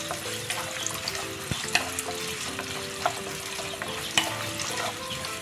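Chopped onion sautéing in hot oil in a pan for a Tamil-style mushroom gravy, a steady close sizzle with faint stirring clicks and a few sharper utensil taps throughout.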